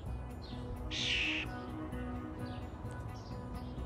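A pet baby bird out of its cage gives a short, high chirping call, faint and close, with softer cheeps scattered around it in a quiet room.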